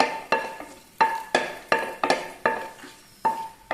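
Cloves and a bay leaf sautéing in hot oil for a green peas stew, heard mostly as a utensil clinking and scraping against the pan in about eight sharp, evenly spaced strikes, close and clear with no talk.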